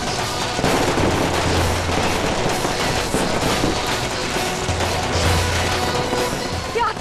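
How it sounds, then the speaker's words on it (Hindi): Fireworks fall and burst close by in a loud, continuous barrage of crackling pops and bangs with rapid rattling bursts, overwhelming everything else. "ये आतिशबाजी हमारे ऊपर क्यों आ रही है?"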